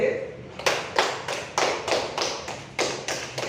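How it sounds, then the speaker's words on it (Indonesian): A classroom of students gives a short burst of applause for a student discussion group, the claps coming in a steady rhythmic series, fairly close and moderately loud, with no talk over them. "Oke, kita kasih aplaus kepada kelompok B."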